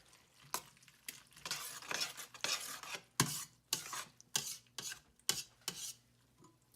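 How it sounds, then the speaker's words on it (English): A spoon stirring a cheesy cheddar sauce in a pot, scraping and rasping against the bottom in repeated strokes that grow sharper and more rhythmic, close and moderately loud, with no voices. "I'm going to stir this a little bit more"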